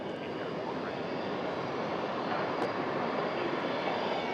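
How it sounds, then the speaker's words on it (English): A Falcon 900 business jet runs its engines at Sydney Airport, a steady broad roar heard from a distance that holds constant throughout with no clear change. "Just turn my noise gate up a little bit to try and block out that Falcon 900 engine run."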